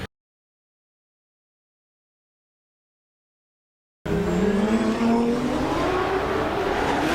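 Formula Drift cars at Long Beach during a drift run. After several seconds of silence, loud engine revving and roaring cuts in abruptly and holds steady with rising and falling pitch, close and continuous.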